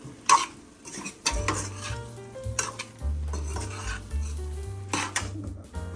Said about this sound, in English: So I'm gonna mix it all together nicely.